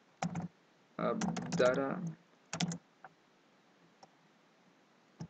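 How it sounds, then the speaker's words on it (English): Computer keyboard typing comes in short bursts of rapid, close key clicks, separated by gaps and a few isolated taps, with a brief spoken word mixed in. "in the search bar we're gonna type the following"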